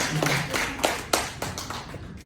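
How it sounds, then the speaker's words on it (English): A small audience clapping for a speaker at a lymphoedema awareness day event, a handful of distinct, sharp claps spaced out and slowing, fairly near and soft overall. "Let's give her a clap."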